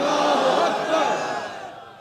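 A crowd at a political rally in Shikarpur, Pakistan roars back a slogan in unison, a massed, far-off shout that swells briefly and then fades out over about two seconds.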